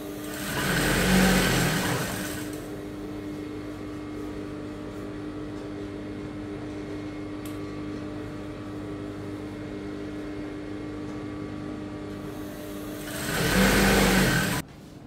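A sewing machine stitches along the edge of crinoline for a pleated turban, its motor whirring loudly in two short bursts at the start and end with a steady lower hum in between, no talking.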